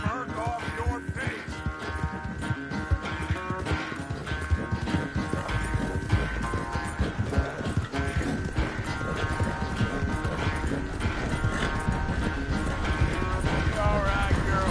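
A horse's hooves clip-clop steadily at a riding pace in Red Dead Redemption 2, sounding throughout under music and voices talking.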